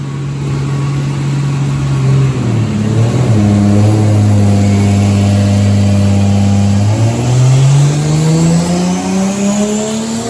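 A single-turbo flex-fuel Lexus IS300 engine on E85 revs hard and loud on a dyno at about 16 PSI boost, holding high revs, dipping, then climbing again, with a strained, steady roar and no voices.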